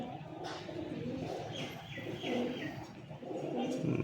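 Dasu line pigeons, a pure breed, coo in overlapping low rolling calls close by, with a soft chirp or two over the steady murmur and no one speaking.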